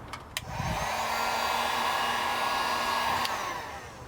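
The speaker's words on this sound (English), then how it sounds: "Now we'll heat shrink them." A heat gun shrinking tubing over freshly joined wires during a police interceptor car wiring job: a steady, loud blowing whir that holds for about three seconds and then cuts off, with no talking.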